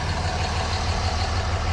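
Jeep Trackhawk engine idling at a dealer auction, a steady low rumble held evenly throughout, moderately quiet with no voices over it.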